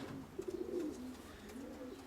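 A grey female pigeon coos close by, a soft low rolling call in a few short pulses followed by a longer drawn-out coo, with faint background noise and no talk.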